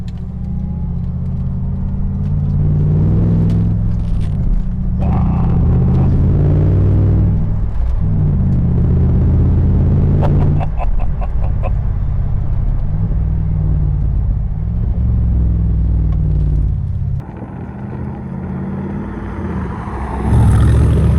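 A 2016 Morgan Aero 8 roadster drives along country roads, its engine a steady, loud low rumble with shifting revs throughout, easing briefly near the end before rising again.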